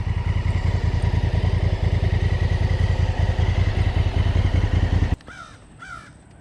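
A Honda CRF1000L Africa Twin motorcycle engine runs with a loud, close, steady rumbling throb for about five seconds, then cuts off abruptly, leaving a quieter background with faint chirping.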